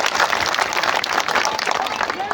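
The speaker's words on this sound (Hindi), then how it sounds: "उसके माँ के लिए भी एक बार ताली बजाइए।" A crowd at a political rally in Jamui applauds, with dense sustained clapping throughout, loud and close, and voices mixed into the noise.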